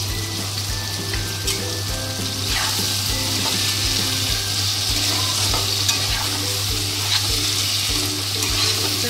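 Goat liver sizzles in hot oil in a pan as sour yogurt is stirred in, a continuous crackling fry with rhythmic scraping strokes of the spoon and a steady low hum running underneath.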